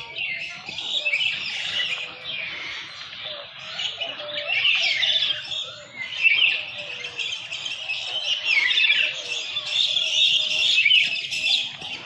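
Many birds chirp and squawk together in a dense, continuous chorus at the TMII bird park in Jakarta, loud and close, with overlapping calls throughout.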